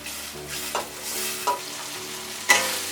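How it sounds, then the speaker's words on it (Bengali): Spices and onion sautéed in oil in a pan for a tangy jujube chutney, a steady broadband sizzle with three sharp utensil scrapes and clinks of stirring, close and fairly loud, no voices. "এখন আমি ভালো করে কষিয়ে নিই"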